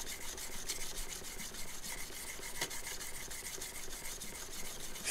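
A low-angle jack plane blade is rubbed back and forth on a 1000 grit sharpening stone, giving a steady, close abrasive rasp that runs without pause and without talk.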